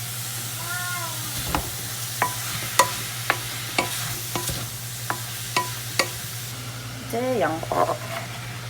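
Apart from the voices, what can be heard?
stir-frying tofu, carrot and onion in a pan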